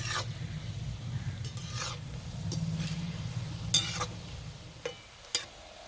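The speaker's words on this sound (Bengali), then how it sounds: "হালকা আঁচে এইভাবে একটু সময় ধরে ভেজে নেব" Sweet potato pantua frying slowly on low heat, a soft low bubbling hiss with scattered spatula scrapes and a few sharper taps near the end, close and quiet with no talk.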